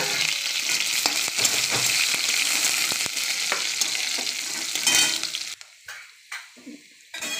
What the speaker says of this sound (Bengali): তেলও গরম হয়ে গেছে, এই রসুন আর কাঁচা লঙ্কাটা দিয়ে দেবো।